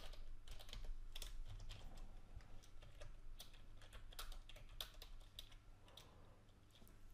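Code typed on a computer keyboard, a close, quiet stream of quick irregular key clicks with short pauses between bursts, no talking.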